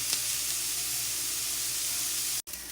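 Onions, garlic and ginger fry in a pan with a steady, loud, close hissing sizzle that runs throughout, broken by one brief cut near the end.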